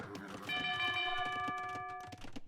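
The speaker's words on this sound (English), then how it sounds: "and town bell again" A town bell rings in an Age of Empires match, its sustained metallic tones holding steady for about a second and a half over busy clicks and thuds of in-game action.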